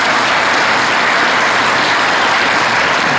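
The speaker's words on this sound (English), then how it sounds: "I'd like to thank all the candidates for their speeches. At this stage, we're going to open, let's have a round of applause." At an election candidates forum in Manitou Beach, an audience claps loudly and steadily. The dense, continuous applause fills the whole stretch with no talking over it.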